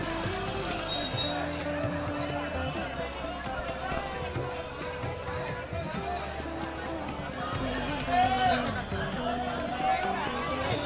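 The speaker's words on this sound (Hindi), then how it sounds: "संडे की वजह से भीड़ है।" Dense crowd of pilgrims at Daan Ghati temple in Govardhan on a busy Sunday, with steady overlapping chatter and bustle close around, plus scattered louder voices and movement throughout.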